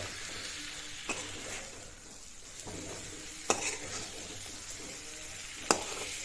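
Masala-stuffed eggplants fry in a kadhai with a soft, steady sizzle, while a spoon stirs them and scrapes the pan now and then, giving a few sharp metallic clicks. The sound is fairly quiet and close.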